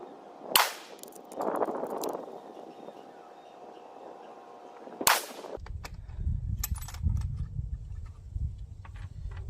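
Rifle fitted with a CVLIFE 6-24x50 scope being zeroed at a range, firing two sharp, loud, close gunshots about four seconds apart, followed by a rumbling, clattering background.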